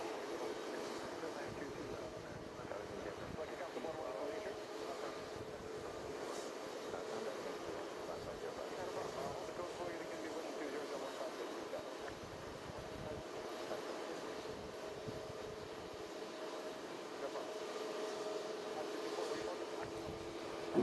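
A LOT Polish airliner in its Independence livery taxis at JFK airport, a steady distant engine drone and hum that holds evenly, with faint outdoor background noise throughout.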